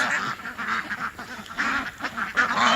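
A flock of imprinted poultry calls all at once, a dense, continuous chorus of nasal quacking and honking close by, with no gaps.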